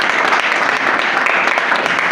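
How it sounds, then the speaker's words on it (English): Brief, loud burst of audience applause at a national youth retreat, many hands clapping densely and evenly across the whole moment without any voices. "Please a round of applause for the"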